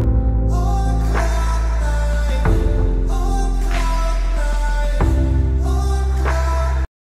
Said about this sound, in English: that is allowing this to give it that underwater kind of feel